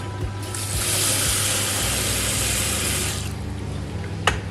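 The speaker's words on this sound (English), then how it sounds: "So we'll just run this through some more water" Rice being washed in a sieve under steadily running tap water, a broad close hiss of flowing water lasting about three seconds before it stops, with a faint clatter near the end.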